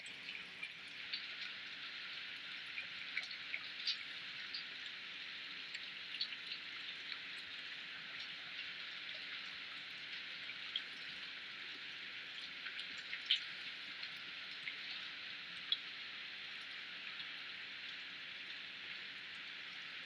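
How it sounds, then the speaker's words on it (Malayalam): Heavy rain pours steadily outdoors in a dense, even hiss with scattered louder drops pattering on surfaces, continuous and moderately loud throughout with no voices. "നല്ല മഴ പെയ്തിന് കേട്ടോ ഇപ്പൊ സൂപ്പർ മഴ"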